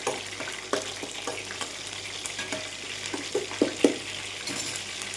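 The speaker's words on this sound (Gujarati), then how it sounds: "લીમડો એડ કરી દઈશું અને તેને પણ આપણે 10 સેકન્ડ માટે સોટે કરી લઈશું" Green chilies and curry leaves sauté in hot oil for a Surati khaman tempering, a steady close sizzle with occasional sharper crackles and pops.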